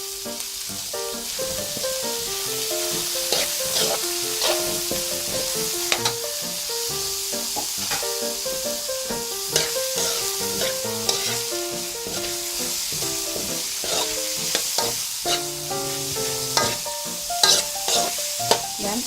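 Red onion, ginger and tomato sautéing for bopis in a pan: a continuous sizzle under repeated scraping and stirring clinks from a utensil, with no voices.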